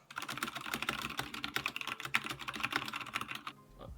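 A mechanical keyboard with Zorro brown switches is typed on in a fast, steady stream of close, clacky keystrokes, with the keypresses heard alone and easing off just before the end.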